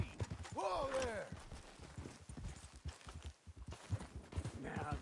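Horse hooves clip-clop in a steady walking rhythm in Red Dead Redemption 2. The hoofbeats run through the whole stretch, close and fairly quiet. A horse whinnies near the start, another call comes near the end, and bits of low voice mix in.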